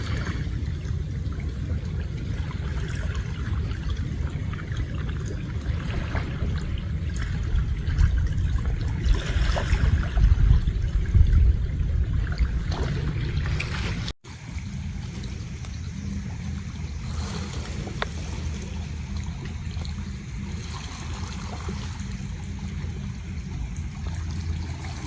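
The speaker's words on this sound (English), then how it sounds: "you can just hear the gentle waves just lapping on the shore here" Gentle waves lapping on a quiet shore at Khao Ta Mong Lai Forest Park, Thailand, a soft continuous wash and trickle with low rumble, briefly cut and resuming steadily.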